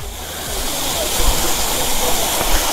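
Cold mountain water flowing at Sach Pass in the Himalayas, a steady broadband rush like a nearby stream or small waterfall, continuous and fairly loud throughout with no clear speech over it.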